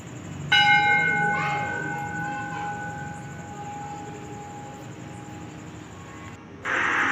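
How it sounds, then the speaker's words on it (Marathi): A temple bell at a Mahadev shrine is struck once, giving a clear metallic clang. Its ringing tone fades slowly over several seconds against quiet surroundings, and another brief noise follows near the end. "छोटीला घंटी वाजता येत नव्हती, तरी वाजवली त्याने."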